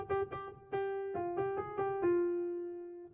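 Solo piano plays a melodic fragment from a song, about eight single notes in a stepping pattern, quiet and close, the last note ringing out as it decays.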